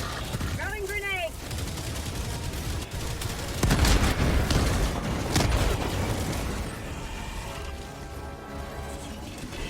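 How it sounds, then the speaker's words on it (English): A grenade thrown in Helldivers 2 gameplay, heard in a loud chaotic firefight with bursts of gunfire and booming explosions rolling through the scene, with a voice speaking over the action. "Throwing grenade."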